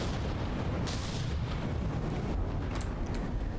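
Heavy battleship guns firing in the From the Depths naval battle game, a continuous rumbling barrage with dull booms and a few sharper pops near the end.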